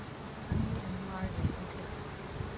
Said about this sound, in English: there's a lot more bees around here